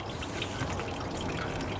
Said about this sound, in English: turn on the water, hold it there, and water will come out here